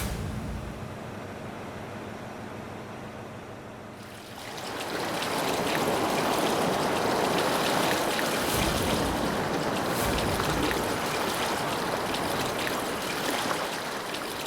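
River water flows steadily near a factory pipeline, a broad continuous wash that rises abruptly after a few seconds of quieter ambience and stays loud to the end, with no talk.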